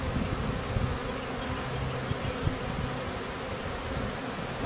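A honey bee swarm gathers at a hive in April, producing a dense, continuous buzzing hum that stays loud and steady throughout, with no voices.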